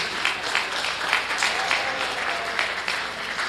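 An audience at a county fair junior lamb and sheep show gives a warm round of applause, a steady wash of clapping from a moderate-sized crowd that lasts throughout without pause.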